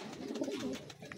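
A racing pigeon gives a soft, close coo, a brief throaty warble with no talking around it.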